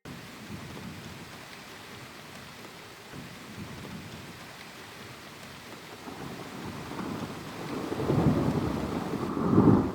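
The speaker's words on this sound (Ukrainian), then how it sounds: "Звук дощу, правильно." Steady rain falls throughout while thunder rumbles low and builds to a louder roll near the end.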